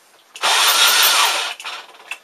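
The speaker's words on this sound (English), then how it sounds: "This drill is this screwdriver is not the best, but it'll do for this job." A cordless power screwdriver drives a screw in one sustained loud whirring burst of about a second, followed by a few short trailing bursts, close and with no talk.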